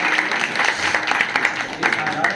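Audience at a Hindu religious discourse breaks into brief, steady clapping, a dense patter of many hands filling the hall with no one speaking.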